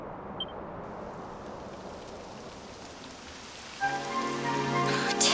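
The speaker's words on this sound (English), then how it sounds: "It would have to go and start raining, wouldn't it?" Steady rainfall patters across a surface in the video game Dragon Quest XI S: Echoes of an Elusive Age, then a brighter, denser downpour swells in near the end, with tonal game-like sounds layered in.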